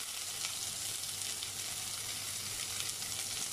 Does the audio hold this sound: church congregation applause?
no